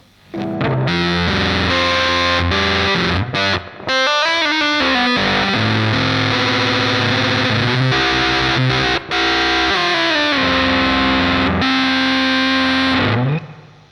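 A loud electric guitar through a JOYO JF-12 Voodoo Octave fuzz pedal, thick and buzzy, plays sustained chords and riffs on its own, nearly continuous, with a couple of brief breaks.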